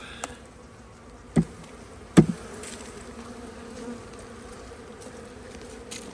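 A steady, close hum of honeybees buzzing fills the clip, broken by a few sharp knocks, during a hive inspection recombining two colonies after a swarm prevention split.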